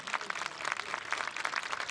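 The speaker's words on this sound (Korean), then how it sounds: "마지막 강화자까지 격려의 박수가 필요할 것 같습니다" Applause from an audience at a South Korean Armed Forces Day ceremony marking the 69th anniversary, a steady patter of clapping with no talk, short and fairly soft.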